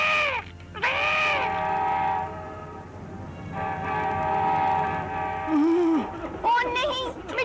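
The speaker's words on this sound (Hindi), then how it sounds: "ओ नहीं, मिठू, रेल, अब क्या करेंगे?" A cartoon train approaches along a railway track, its horn blaring in long repeated blasts over a rumbling run, while a voice speaks and cries out near the end.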